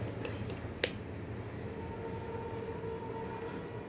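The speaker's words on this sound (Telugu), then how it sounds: "ట్రైన్ సౌండ్ అండి" A train rumbles past close by with a steady low, continuous roar, and a single sharp click is heard early on.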